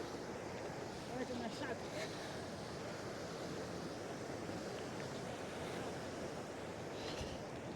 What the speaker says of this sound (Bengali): আর এই যে ঝর্ণা ধারা, বরফের মধ্যে